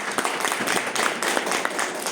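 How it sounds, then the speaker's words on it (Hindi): Audience applause for a management team at a network marketing company event, dense steady clapping from a crowd lasting a couple of seconds at moderate level. "मैं जोरदार तालियां चाहती हूँ"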